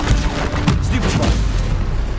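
Spell combat in the Hogwarts Legacy video game as a Stupefy spell is cast: dense, booming magical bursts and rumbling impacts fill the whole stretch at a loud, steady level.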